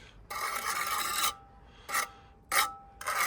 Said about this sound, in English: we'll give it a quick scrape, and then we'll brush it off with a nice soft brush